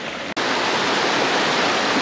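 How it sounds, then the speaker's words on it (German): Mountain water rushes steadily down into a stream near Ordu, Turkey, a loud, even broadband roar after a brief cut at the start. "Kommt von ganz da oben das Wasser, läuft hier runter, hier runter, hier runter und dann hier in den Bach."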